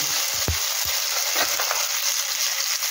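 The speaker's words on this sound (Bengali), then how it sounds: "আমি আগে টমেটোটাকে ফ্রাই করে নেব" About four spoonfuls of tomato puree frying in a pan over lightly fried onion and garlic, a close, steady sizzle broken by a few dull knocks and scrapes of a spoon stirring.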